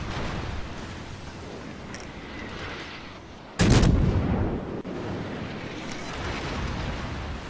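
The cruiser Nuremberg fires its guns in the naval game World of Warships: a single loud, booming salvo cuts through a steady background of sea and engine rumble, with no talking.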